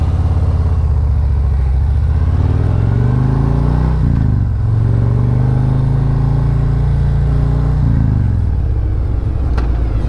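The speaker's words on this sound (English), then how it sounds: "we're going to practice cruising along, braking hard, releasing the brake, and then making a swerve." A motorcycle cruising with a loud, steady engine drone that drops in pitch as it brakes hard, then picks back up and settles through a swerve, close and continuous throughout.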